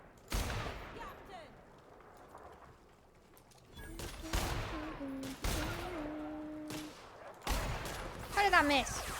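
Gunfire in The Outer Worlds lands in four separate sharp bursts spaced a couple of seconds apart, with quieter game sounds and someone speaking between shots.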